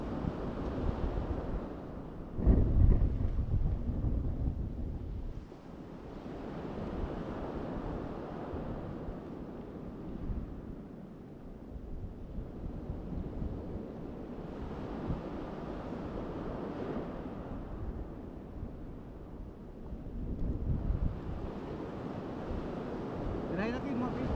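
Out at sea on a small fishing boat drifting with the wind, steady wind buffets the microphone while waves wash and slap in broad swells, with a sharp knock early on and occasional voices underneath.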